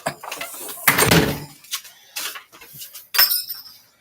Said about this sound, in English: here's my front door.